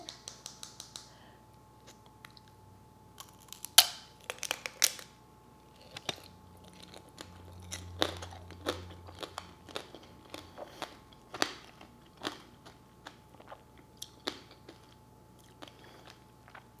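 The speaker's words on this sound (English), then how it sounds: "The crunch of the sugar and the softened strawberry" Crunching and chewing of sugar-candied strawberry tanghulu, with sharp brittle cracks of hard sugar shell followed by soft, wet chewing, close and quiet, in irregular bursts.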